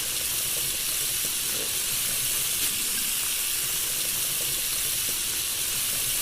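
Tap water runs steadily while an apple is washed in a kitchen, a continuous hissing rush with no talking.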